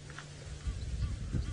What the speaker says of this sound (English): Some Egyptian geese making a noise